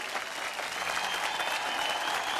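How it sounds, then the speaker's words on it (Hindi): An audience claps vigorously at an event announcing a kite-flying competition prize, with dense, steady applause filling the whole short stretch. "अरे भाई जोरदार तालियां।"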